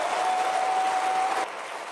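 An audience claps in a steady, dense burst of applause that cuts off sharply toward the end, leaving quieter room noise.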